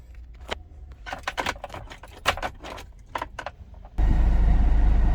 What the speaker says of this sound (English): I'll just turn on the car